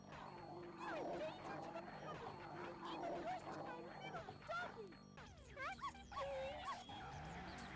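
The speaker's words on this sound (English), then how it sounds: "I love that dog." A dog barks and yips in several short bursts, some whimpering, heard faintly amid a game's background sounds and people talking over it.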